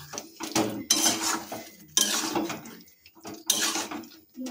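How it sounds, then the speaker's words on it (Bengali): A spatula scrapes and clanks against a kadai while marinated chicken is stirred, making irregular metallic clatter in bursts with short quiet gaps between, close by and fairly soft. "এখন সেই ম্যারিনেট করা চিকেনটা কড়াইতে আরও মিনিট 5 ধরে কষাতে থাকবো"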